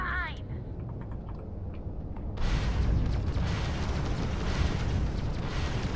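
An enemy ship's grav drive explodes in the space-combat video game Starfield, a sudden loud roaring blast that bursts in after a quieter rumble and then sustains as a heavy crackling wash.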